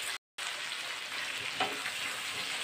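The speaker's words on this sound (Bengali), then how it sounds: "এইভাবে আমি একটু কষিয়ে নিচ্ছি" Tomato, ginger, garlic and onion fry in a pan for egg lababdar curry, a continuous close sizzle with soft stirring scrapes and one brief dropout near the start, no voices.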